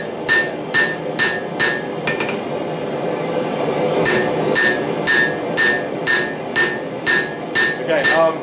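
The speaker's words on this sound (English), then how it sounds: "When you're hammering away from yourself, make sure you're raising your hammer a bit more so you're getting that angle." A hammer strikes a knife blade being forged, sharp ringing metallic blows landing in quick clusters with pauses between, close and loud over a steady background hum.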